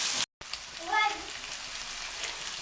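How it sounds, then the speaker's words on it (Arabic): Liver and gizzards sizzle with onions in a hot pan for pigeon stuffing, a steady close frying hiss that briefly cuts out near the start, with a light clink partway through. "هننزل بعد كده بقى بالكبد والقوانص تتشوح مع البصله"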